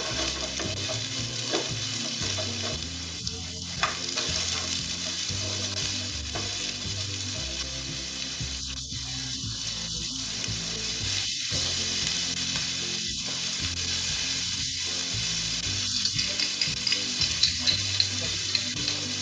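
Onions, cabbage and carrots are stir-fried for veg hakka noodles, a steady close sizzle running throughout with scattered scraping and clinks of stirring, growing busier toward the end.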